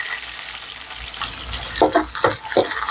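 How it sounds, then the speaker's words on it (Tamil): Onions, curry leaves and green chili fry in oil in a pan for beetroot poriyal, giving a steady close hiss that swells into bursts of crackling sizzle as the pan is stirred. "வெங்காயம் லைட்டாக பொன்னிறமாக வதங்கட்டும்"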